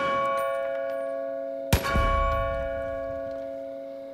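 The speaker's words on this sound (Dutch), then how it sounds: "Maar kunnen we die bel nog af laten gaan?" A single sharp metallic clang of a bell struck by a gunshot in the video game Far Cry New Dawn, ringing briefly over a steady game background hum.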